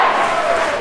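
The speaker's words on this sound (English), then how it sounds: "Here comes the crowd." A football grand final crowd roars and cheers in a steady, loud wall of voices from a country league final, with no individual speaker standing out.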